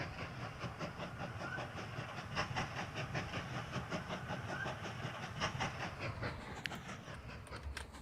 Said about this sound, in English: So the steam train's coming in.